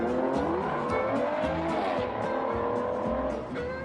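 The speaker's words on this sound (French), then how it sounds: "C'est une Porsche qui est sortie à 1000 exemplaires." A Porsche luxury sports car, one of a 1000-unit limited run, revs and accelerates with a loud rising engine whine, tires squealing along with it, close and continuous for several seconds.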